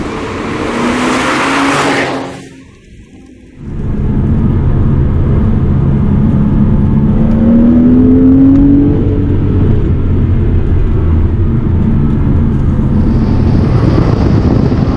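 A mid-engine sports car under $30,000 drives hard through corners, its engine drone steady and loud with a rising whine mid-run and a brief dip in sound near the start.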